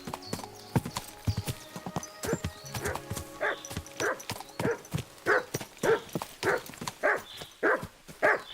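A dog barks repeatedly in a fast, regular series over clopping hooves in Kingdom Come: Deliverance 2, the barks growing louder and more insistent.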